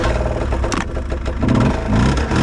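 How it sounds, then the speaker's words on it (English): A kei truck's small engine revs and strains while its tires fail to grip an icy hill, the note rising in two loud surges with clattering in between. "And my K-truck is not getting up the hill."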